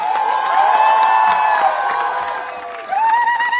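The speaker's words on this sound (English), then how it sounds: "Yes, she needs a round of loud cheer." A large audience at an India House event honouring Indian Olympic athletes cheers loudly and steadily, with whoops and shouts in a dense, sustained roar that dips briefly and swells again.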